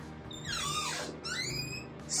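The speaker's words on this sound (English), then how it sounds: "squeaky door." A squeaky door in a guesthouse room in Malacca, Malaysia, creaks open in long, rising and falling high-pitched squeals lasting about two seconds, with a short break in the middle and a sharper squeak at the end.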